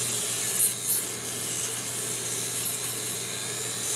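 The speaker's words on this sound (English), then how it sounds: "when you grind the customer nail, you guys can tell the difference, how smooth it is" A nail drill fitted with a sanding band grinds a customer's nail during a unicorn ombré manicure, giving a steady, close, continuous high-pitched abrasive whir with a faint low hum underneath and no talking.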